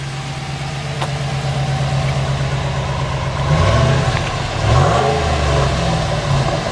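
A 2014 RAM 1500 ST pickup idles with a low, steady rumble heard from the rear of the truck. Two brief revs rise and fall over it.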